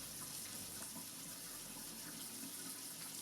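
Water runs steadily from a tap while hair in starter locs is wetted, a constant soft hiss and splash heard close and unbroken, with no voices.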